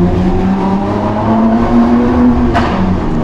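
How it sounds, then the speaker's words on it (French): Lamborghini Aventador Ultimae LP780-4 V12 heard from inside the cabin, a loud continuous high-revving roar with a sharp crack at a gearshift near the end, no talk over it. "C'est beau claquement au passage de rapport, ça c'est fabuleux ça"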